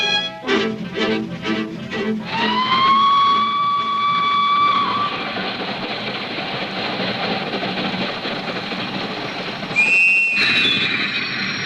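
A train whistle in the radio drama Night Train, heard first as rhythmic rail clatter and then as a long, loud steam whistle blast, followed by a rumbling ride and a second shorter whistle.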